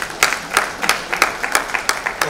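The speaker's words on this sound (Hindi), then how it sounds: "भाई जोरदार तालियां हो जाए" A crowd claps in unison at a live stage event, sharp claps landing on a steady beat about three times a second, fairly close and with no talking over it.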